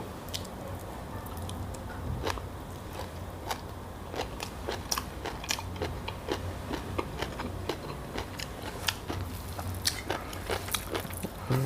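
Crunchy Thai green papaya salad being chewed close up, with steady moist crunching and biting clicks repeating over a low background hum and no talking.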